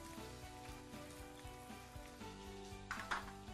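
Carrots, beans and fresh green peas fry in a pan with a steady, faint sizzle and crackle, plus a few soft stirring knocks near the end.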